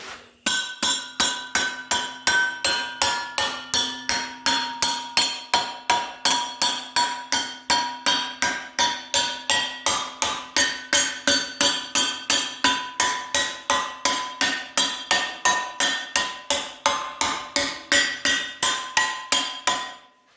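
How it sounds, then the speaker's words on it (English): Rapid, evenly spaced hammer blows ring on metal as a body mount is shaped around the end of a pipe, loud and close, a long run of sharp clinking strikes with no talk. "I'll hammer this down around here so we'll get the round look"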